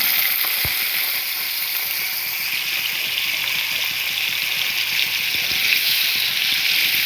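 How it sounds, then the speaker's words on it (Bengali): Chopped onion hits hot mustard oil in a wok and fries with a loud, unbroken sizzle, one dull thump near the start and no speech. "তেল আমাদের গরম হয়ে গেছে, দিয়ে দেবো পেঁয়াজ কুচি।"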